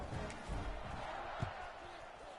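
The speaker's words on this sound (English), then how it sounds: "this crowd is buzzing after that last score" Stadium crowd noise from an NCAA college football video game after a score and extra point, a steady broad roar with a few dull thumps and a faint voice.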